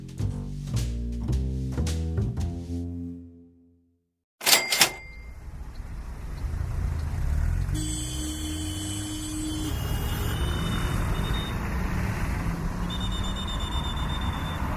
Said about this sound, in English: This is the sound of traffic in Bogota, the capital of Colombia. It's pretty chaotic.